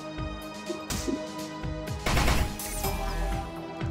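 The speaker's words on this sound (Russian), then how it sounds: "Тройной выстрел." Triple-shot gunfire from the video game Deep Sky Derelicts, a burst of sharp synthetic blasts clustered with crashing impacts over a busy, ringing game soundscape, loud and close.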